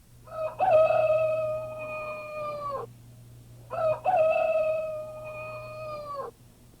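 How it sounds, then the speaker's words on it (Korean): A rooster crows twice, each call a loud drawn-out tone of roughly two seconds with a falling tail, separated by a short pause over a faint steady hum. "궁전의 문 앞에서 순유는 짚을 실은 짐수레 위에 닭이 있는 것을 보았습니다"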